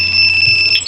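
A Honda ADV 160 motorcycle's two-way anti-theft alarm sounds, a loud, steady, piercing electronic tone held without a break under a low hum.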